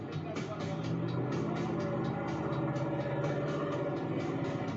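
Monster Jam truck engine at wide open throttle, a loud roaring rev with rapid pulsing as it shifts to second during a world speed record run, mixed with a voice talking over it.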